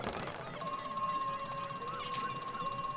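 A telephone bell rings steadily in the horror video game Crow Country, a continuous electric trill over a low ambient hum, heard alone without any talk.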